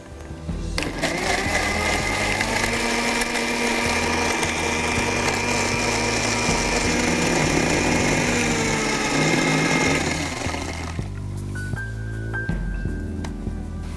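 A mixer grinder blends beetroot lassi of beetroot, curd, country sugar and a little water, a loud steady whirring drone running about ten seconds before cutting off, followed by quieter kitchen sounds.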